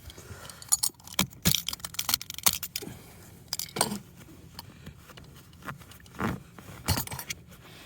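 Ties being cut off a 1993 Mk1 Ford Mondeo rescued from a scrapyard, a series of close, sharp snips and plastic clicks in an irregular rhythm, with small rattles and scrapes between cuts.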